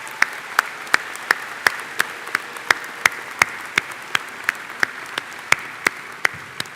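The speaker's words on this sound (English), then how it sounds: "Now join me in a round of applause." Audience applause at a 2022 university commencement ceremony: a steady wash of crowd clapping with one nearby clapper's sharp, evenly spaced claps standing out, sustained without a break and no talking.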